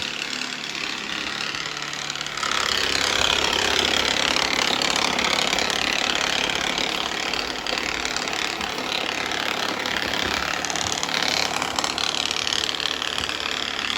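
A Shark IQ self-emptying robot vacuum makes a loud, steady mechanical whirring and rattling drone that runs continuously, with a harsh grinding quality, close by and without voices.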